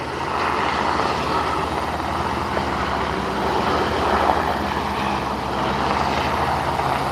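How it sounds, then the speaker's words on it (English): An Airbus H125 helicopter from Liverpool passes over an aerodrome, a loud, steady broadband rotor and engine roar holding throughout without any talk. "This is your Airbus helicopter H125 from Liverpool."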